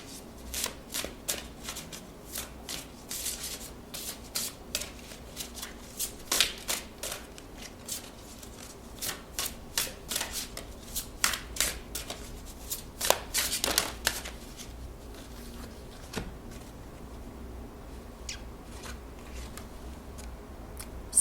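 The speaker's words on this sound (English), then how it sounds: "I'm going to pull some Fairy Godmother Oracle for you." Oracle cards are shuffled by hand in repeated quick papery riffles and flicks, close and fairly soft, with irregular bursts and pauses and a denser flurry partway through.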